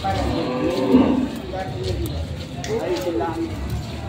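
Several low moos from a female water buffalo, close by, over background chatter and noise at a livestock sale.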